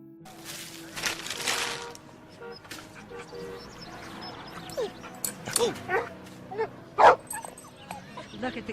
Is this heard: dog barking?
yes